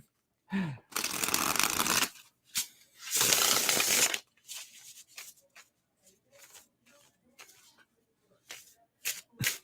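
A thick tarot deck being shuffled by hand, two long riffling bursts up close followed by a string of softer short card taps and slides, no talking.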